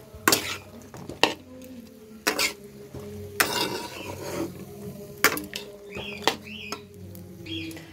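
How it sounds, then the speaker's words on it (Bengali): Onion fries in a pan with potato, beans, carrot, tomato and capsicum for pasta, giving a soft sizzle under repeated clattering scrapes of a spoon stirring against the pan. "আর এদিকে আমি পেঁয়াজটা ভাজা শুরু করে দিয়েছি।"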